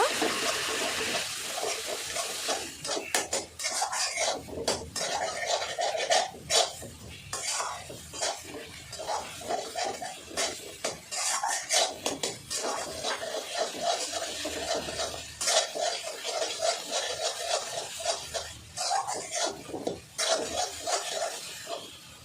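Spices are stirred into dum aloo in a pan, soft repeated scraping and clinks of a utensil against cookware recurring in a loose rhythm, fairly quiet and close.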